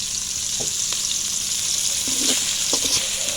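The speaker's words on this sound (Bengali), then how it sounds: "কড়াইয়ের মধ্যে পেঁয়াজ কুচি এবং রসুন বাটা দিয়ে দিলাম এবং তেল দিয়ে এখন সুন্দর করে ভেজে নিতে হবে" Chopped onion and garlic paste fry in oil in a wok, giving a bright, constant sizzle with a few soft scrapes and taps of a stirring spoon near the end.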